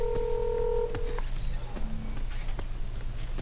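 Telephone keypad dialing tones: a few sustained beeps in quick succession, close and clear, followed by quieter clicks and tapping with no talk.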